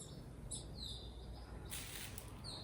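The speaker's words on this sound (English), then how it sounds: "There were some birds." Birds on a quiet hilltop in Cavusin, Turkey, give a few faint, scattered chirps and tweets over a steady wind-like background hiss.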